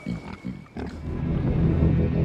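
Pig grunting and snorting at an awards ceremony event, a few close, rough grunts at first, then a continuous low rumbling snuffle, with faint voices mixed in.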